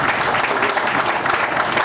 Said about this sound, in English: I'd like to give him a round of applause and have him say a few words